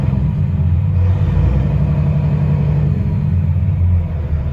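A Western Star glider daycab truck with a freshly overhauled single-turbo Cat diesel engine holds a steady, loud, low rumbling idle with a slight rise in revs, heard close and alone without talk.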